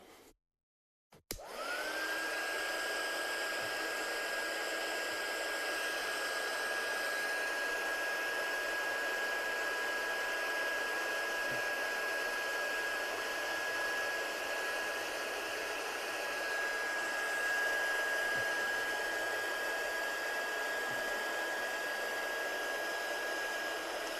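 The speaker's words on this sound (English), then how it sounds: "Bring in the heat gun again." A handheld heat gun blows a steady, loud, even whoosh with a constant whine as it dries embossing powder on a handmade card. It starts abruptly after a brief silence and runs unbroken for over twenty seconds.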